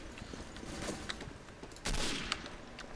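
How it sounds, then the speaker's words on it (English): Gunfire from the video game Day of Defeat crackles in a dense, busy fusillade of overlapping shots, with a louder burst near the middle standing out against the ongoing battle noise. "See, shooting at my teammates."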